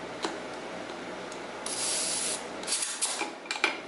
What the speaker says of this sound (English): So we want to get a little spritz of air here.